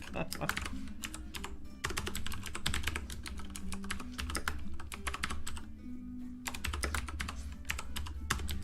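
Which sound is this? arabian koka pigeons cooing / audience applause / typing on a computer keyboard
typing on a computer keyboard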